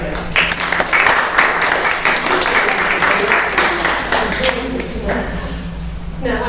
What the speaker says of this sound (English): So if you all will give Sharon a nice round of applause